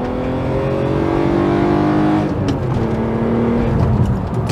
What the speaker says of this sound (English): And man, it's such a nice sounding engine.